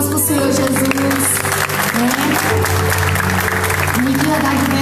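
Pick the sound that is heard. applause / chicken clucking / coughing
applause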